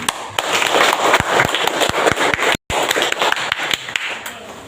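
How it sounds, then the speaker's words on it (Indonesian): A classroom of students claps for group 5 during a lesson on water pollution: a rapid run of sharp, close claps and taps that continues steadily, with one brief silent break in the middle. "Kita tepuk tangan buat kelompok 5."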